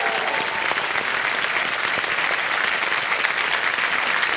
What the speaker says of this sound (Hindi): एक बार फिर जोरदार तालियां हो जाएं